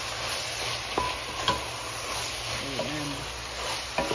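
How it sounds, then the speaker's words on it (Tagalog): Tomatoes and onions frying in a pan, a steady close sizzle throughout, broken by a few light taps and scrapes as they are stirred; a voice speaks briefly near the end. "Halo-halo lang siya guys hanggang sa maluto yung kamatis at"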